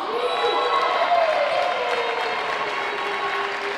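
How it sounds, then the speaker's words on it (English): Crowd cheering and applauding at a women's college volleyball match, LTU versus University of Michigan-Dearborn, a steady, loud wash of claps and shouts filling the whole stretch with no break. "Crowd approves once more."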